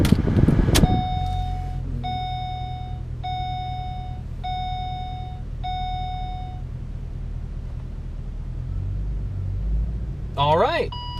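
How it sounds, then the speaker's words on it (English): Door of a Pontiac G8 opened and shut at close range, a sharp thump followed by a steady repeating electronic chime over a low idling rumble, with a brief voice near the end. "We'll open and close the door just to make sure the car thinks that we're in here."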